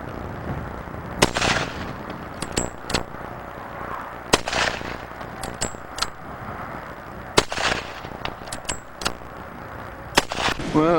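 A revolving shotgun fired repeatedly: loud, sharp blasts come at irregular intervals, each followed by a brief ringing decay.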